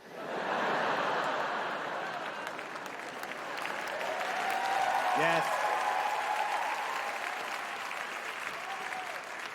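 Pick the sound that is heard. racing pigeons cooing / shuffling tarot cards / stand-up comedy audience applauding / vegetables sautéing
stand-up comedy audience applauding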